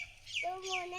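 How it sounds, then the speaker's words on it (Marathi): A chicken gives a short, faint cluck of two quick rising-then-falling calls within about a second, fairly close but quiet against a low background. "मोन्या कोंबडी आहे रे तुझी."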